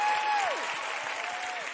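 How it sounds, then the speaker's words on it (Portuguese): A studio audience claps for Gabi in a loud continuous burst of many hands, with a faint tonal cheer or whoop gliding over the crowd. "Uma salva de palmas pra Gabi"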